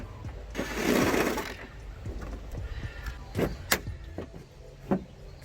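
Work on a Bentley Continental front bumper brings a whirring power-tool burst while a T25 fastener is backed out, then scattered clicks and plastic knocks as the inner fender is pulled back, close by and without talk.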